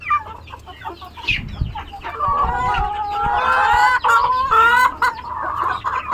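Several native chickens cluck and squawk busily close by while eating, a steady overlapping chatter with a few louder calls, and some low thumps early on.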